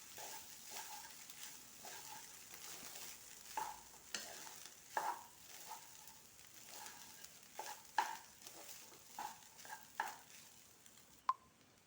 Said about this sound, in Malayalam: ഇനി ഇതൊന്ന് നന്നായിട്ടൊന്ന് മിക്സാക്കി എടുക്കുക.